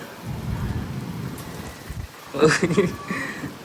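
Heavy, wind-driven rain falls outside as a steady rushing wash with low gusty rumble, and a voice briefly breaks through near the end.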